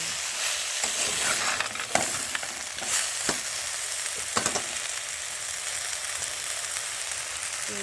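Bitter gourd and lentil dumplings stirred in a hot pan, a steady oily sizzle with scraping spatula strokes and a few sharp clacks, continuous and close.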